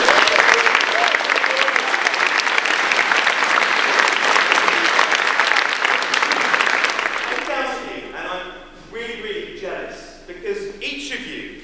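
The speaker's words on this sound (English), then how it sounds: "Can we give a round of applause for all of the teachers?" Sustained applause from a school audience at a 2012 prizegiving, loud and dense for about seven seconds before thinning out as a speaker's voice comes in over the fading claps.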